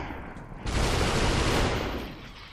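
Gunfire in SUPERHOT, a sudden loud burst that sustains as a dense, rough blast for about a second before fading, heard alone without talk.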